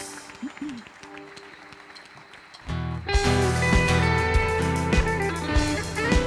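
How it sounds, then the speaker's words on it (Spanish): Congregation clapping during an evangelical church service, swelling suddenly about midway from quiet murmuring into loud sustained applause mixed with strong musical tones from instruments. "¿Por qué no damos un aplauso al Señor a ver si se oye?"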